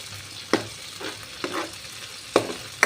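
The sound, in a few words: sardines frying in a pan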